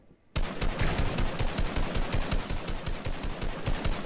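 Rapid automatic gunfire in Fortnite: a loud, close burst starts abruptly and continues as a dense, steady run of shots for several seconds, with no voice over it.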